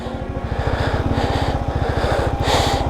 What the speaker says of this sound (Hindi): यहाँ मेरी बाइक फंस गई है